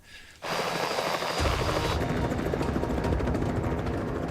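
A helicopter flying over Alaska thunders close overhead, its rotor chop a loud, steady pulsing roar that starts suddenly and holds for the rest of the clip.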